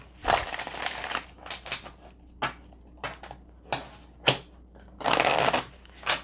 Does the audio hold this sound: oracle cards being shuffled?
yes